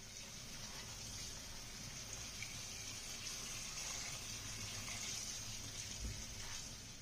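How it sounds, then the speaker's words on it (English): Water gushes steadily as an AMD Athlon-era Jetway 771AS computer motherboard is rinsed in a water bath, a continuous close splashing wash with no voices. "A water bath is the easiest way to get rid of unwanted dirt and dust."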